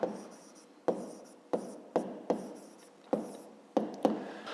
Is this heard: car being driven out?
no